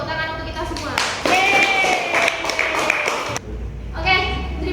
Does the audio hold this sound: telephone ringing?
no